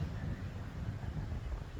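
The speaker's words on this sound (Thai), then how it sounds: "เบิ่งฟังเสียงลมเด้อจ้ะเด้อ" Wind gusting outdoors at a riverside boat pier, heard as a faint, steady low rumble and buffeting against the microphone, with no talking.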